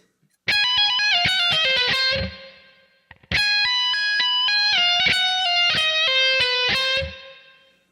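Distorted electric guitar playing a fast tapped and legato run, two rapid flurries of bright high notes split by a short pause.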